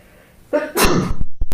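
A single loud sneeze bursts out close by during a county supervisors meeting after a sharp intake of breath, followed by a brief rustle.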